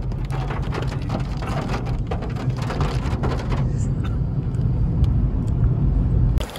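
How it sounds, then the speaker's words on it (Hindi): Heavy rain pours down outdoors in Bahria Town, a dense, continuous hiss of drops hitting surfaces with a low rumble underneath, loud and steady throughout. "तेज बारिश हो रही है, बहुत तेज बारिश हो रही है।"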